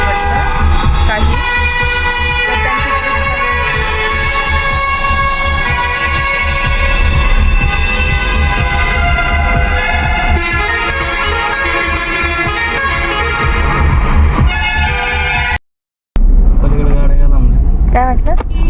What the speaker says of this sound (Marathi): खूप जास्त ट्रॅफिक लागलंय आम्हाला.